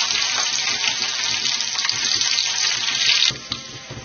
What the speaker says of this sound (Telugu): దీనిలో కొన్ని జీడిపప్పు పలుకులు వేసుకోవాలి. ఇవి వేగుతున్నప్పుడు కిస్మిస్ వేసుకోవాలి.